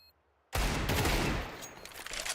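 After a moment of near silence, a dense, loud burst of Desert Eagle pistol fire erupts in a professional Counter-Strike match and carries on as a continuous roar of gunfire.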